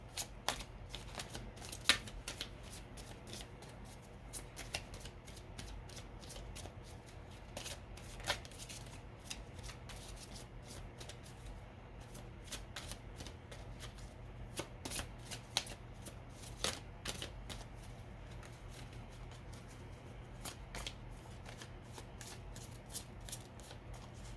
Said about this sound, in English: Just kind of shuffle them and see what wants to fly out for you.